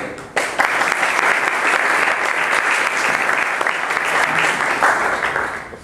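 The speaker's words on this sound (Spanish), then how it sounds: "yo os pido un aplauso para ellos y les dejo la palabra" An audience at a programming-language conference talk applauds the speakers: sustained, fairly loud clapping that starts abruptly and continues evenly for several seconds before tapering off.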